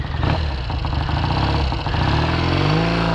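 A 1968 Triumph Bonneville cafe racer motorcycle engine runs close and loud, a throbbing idle with a brief dip in the middle before it picks up again, with no talk.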